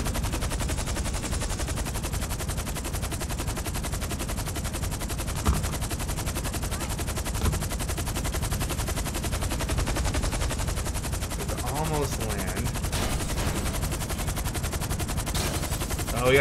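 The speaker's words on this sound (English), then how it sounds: "Oh, we got people gonna shoot at us now" Continuous automatic gunfire rattles through a GTA 5 Online gameplay session in the snow, a dense, unbroken stream of rapid shots with scattered louder bursts.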